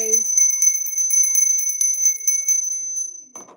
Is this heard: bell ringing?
yes